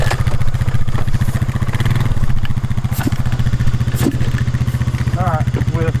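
A worn-out Honda CR500 two-stroke dirt bike engine runs near and loud with a steady, pulsing throb through the whole stretch, while people talk over it.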